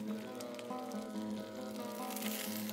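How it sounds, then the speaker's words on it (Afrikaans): Meat thrown into a hot cooking pot sizzles and crackles steadily in a traditional Cederberg kitchen, a dense frying hiss under a faint low hum, with no voices. "Daar gooi ek nou die vleis in."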